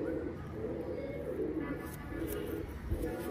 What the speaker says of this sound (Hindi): ये इस कबूतर की नोट है